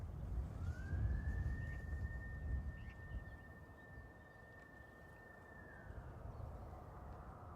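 A fire station siren or horn sounds at Manchester Airport, a single steady wailing tone that rises, holds for about five seconds and then falls away, heard at a distance over a low outdoor rumble.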